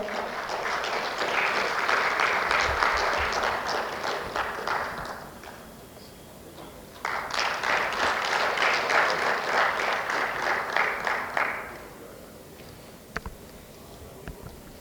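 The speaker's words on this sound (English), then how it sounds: "Kindly give a huge round of applause for the chairman." Two bursts of applause from a conference audience for the chairman, each about five seconds long, separated by a brief quieter pause, with a few stray claps afterward.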